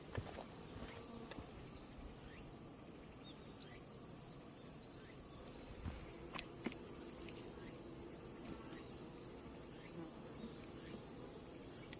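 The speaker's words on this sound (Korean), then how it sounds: "벌이 널려 있다 이렇게 보시면 돼요." Honeybees buzzing around an opened hive during a summer beekeeping inspection, a steady dense drone throughout with a few close passing buzzes, outdoors.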